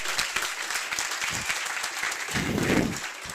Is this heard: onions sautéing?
no